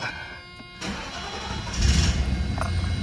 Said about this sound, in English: this is basically how you start the engine up